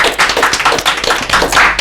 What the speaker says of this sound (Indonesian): Terima kasih untuk Kenta, tepuk tangan.